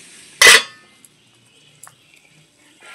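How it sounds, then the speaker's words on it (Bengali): A metal lid is lifted off a cooking pot of boiled green jackfruit, giving one loud, close clang. Faint clinks and light knocks follow in an otherwise quiet kitchen. "ঢাকাটা খুলে নিচ্ছি।"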